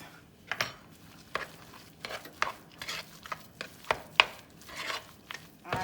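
A spoon mixing chopped shrimp and juice into twice-baked potato filling in a bowl, with irregular soft scraping strokes and sharper clinks against the bowl, close and fairly quiet.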